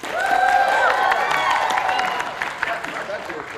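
A room full of people practising a welcome claps and cheers in a broad, lively burst, with whoops rising over steady applause that thins toward the end.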